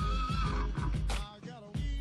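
A horse neighs loudly and up close, a single drawn-out whinny with shaky, pulsing breaks that fades toward the end.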